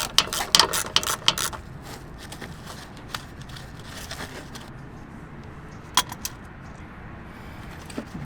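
Ratchet backing off a 10mm plastic nut during rear brake work on an E70 BMW X5: a dense run of near, sharp clicking for the first second and a half, then scattered lighter clicks and taps.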